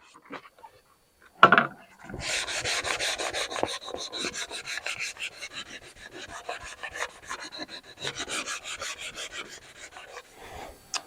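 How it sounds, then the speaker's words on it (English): Hand sanding of a scrap-lumber wooden pizza peel with sandpaper, a steady close rasping rub in repeated strokes after a brief knock, continuing without pause. "you still have to go over with some sandpaper to fix all the little details."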